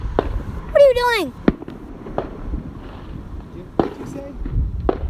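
Fireworks explode, heard from a rooftop as a string of sharp, scattered bangs and pops at irregular intervals, moderately loud and mid-distance, while people talk nearby.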